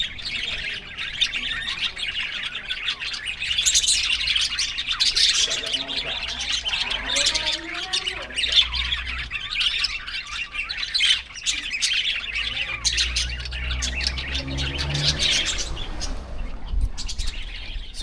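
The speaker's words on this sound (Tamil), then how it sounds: "கிளிகள் சத்தத்தை பாருங்கள்." Parrots squawking and chirping in a traditional village in Melaka, a dense, continuous chorus of shrill calls and tweets from many birds, steady and fairly loud throughout with no talk.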